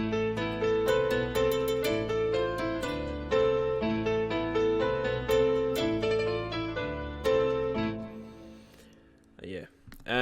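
Several layered dark sample melodies in FL Studio play together, dense sustained plucked and keyed notes moving in a steady rhythm for about eight seconds, then thinning out near the end with a brief faint voice-like sound.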